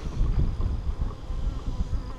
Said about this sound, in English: I'm getting into more and more bees.